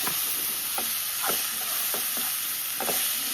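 Sliced mushrooms and onions sizzle in a pan for a Kerala-style mushroom curry, a steady close hiss broken by several scraping stirs of a spoon, with no talking.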